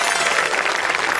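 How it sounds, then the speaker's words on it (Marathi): An audience claps steadily in a broad, even wash of applause that holds at a constant level throughout, with no voices rising above it. "एकदा जोरदार टाळ्या झाल्या पाहिजेत."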